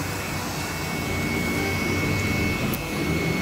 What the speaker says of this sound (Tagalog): Ayan, blower. Ayan, para mabilis matuyo.